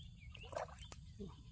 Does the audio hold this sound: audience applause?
no